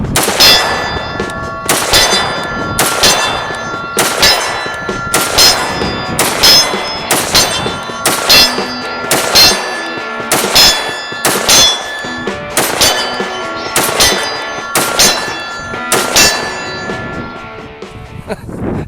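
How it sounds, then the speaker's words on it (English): Rapid string of rifle shots from a POF-USA Revolution, each crack followed by a bright metallic ring off a steel target, about fourteen evenly spaced hits over nearly twenty seconds, loud and close with no talking. "I'd like to, at the very least, pound a magazine of rounds into that target."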